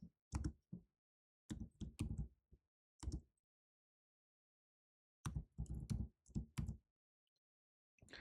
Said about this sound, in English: So I'm going to type that out.